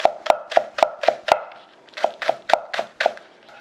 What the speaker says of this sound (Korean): 대파를 총총총총 썰어주세요.